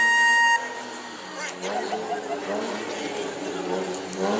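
A car horn sounds in a short steady blast at the start, then crowd chatter and a noisy outdoor ambience carry on underneath, at a burnout contest in New Smyrna.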